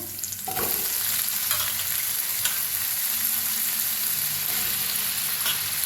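Potatoes frying in a pan for a fasting-day potato bhaji, a loud steady sizzle that jumps up as they go in, with occasional stirring clatter close by and no voices.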